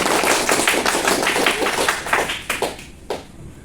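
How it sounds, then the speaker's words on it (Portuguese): A small group claps in a scattered, uneven burst for a student leader at an academic gathering, loud and close, thinning out and fading within a few seconds. "Cadê as palmas do Rodrigo Lima?"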